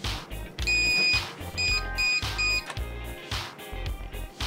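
An RC transmitter sounds its throttle warning, repeated electronic beeps in short irregular bursts over mechanical clicks and handling noise, close up with no talk.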